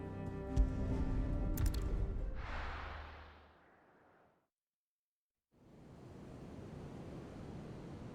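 Ocean waves and open sea water in Final Fantasy XVI, a steady broadband wash of surf that fades out into a short silence, then returns as a continuous rolling swell, with a musical tone at the start.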